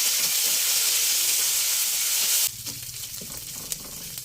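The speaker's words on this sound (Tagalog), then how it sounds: "At dito pa rin sa ating frying pan, maglagay ulit tayo ng mantika. At ilagay na natin ang Spanish sardines." Spanish sardines fry in hot oil in a frying pan, giving a loud, steady close-up sizzle that drops to a softer crackle partway through.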